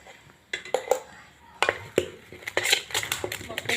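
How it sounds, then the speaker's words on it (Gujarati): A spoon clinks and scrapes against a bowl while mixing gram flour batter with fresh green corn for fritters, irregular close taps and scrapes coming in quick bursts. "સરસ મિક્સ કરી લઈશું"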